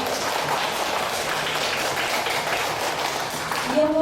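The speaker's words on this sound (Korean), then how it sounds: "박수로 환영해 주십시오" A seated audience at a Korean literary lecture event claps to welcome the presenter and discussant, a sustained dense patter of many hands at a steady level throughout.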